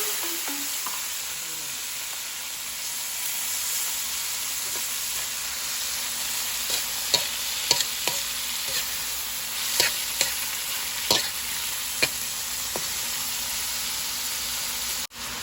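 Shrimp fry in oil in a pan with a continuous, even sizzle, broken by occasional sharp clicks and taps of a utensil stirring, all close and steady without any voices.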